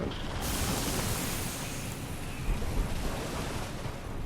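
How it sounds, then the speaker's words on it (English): Waterfall in the game Elden Ring, a steady broadband rushing roar of falling water, dense and continuous throughout with no pauses. "That's the waterfall."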